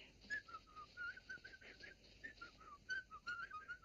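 A person whistles a quick, lilting tune of short rising and falling notes, fairly soft and close, with no talking.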